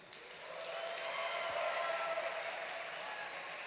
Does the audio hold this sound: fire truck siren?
no